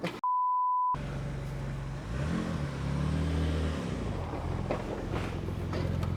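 A car drives close by and accelerates, its engine rumble rising and falling under a steady whoosh, preceded by a brief sharp electronic beep tone at the start.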